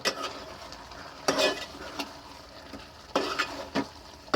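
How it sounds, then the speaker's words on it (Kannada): Spices such as coriander and chili powder are stirred into a boiling wild mango curry, with scraping spoon strokes in irregular bursts over a soft bubbling simmer, close and fairly quiet. "ಧನಿಯಾ ಪೌಡ್ರ್, ಚಿಲ್ಲಿ ಪೌಡ್ರನ್ನ ಮಾವಿನಕಾಯಿ ಸಾರು ಕುದೀತಿರೋತ್ತಿಗೆ ಹಿಂಗೆ ಮಿಕ್ಸ್ ಮಾಡಬೇಕು"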